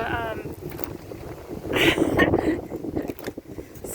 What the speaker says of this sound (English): strong wind as usual.